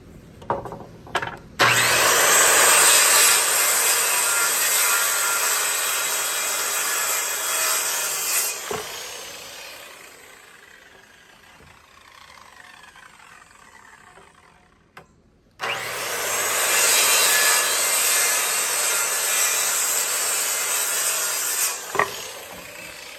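A saw cuts through wood pieces for a cart built to carry a vintage 5 HP Witte stationary engine: loud, steady rasping strokes in a long run, a brief pause with quieter scraping, then another sustained cut.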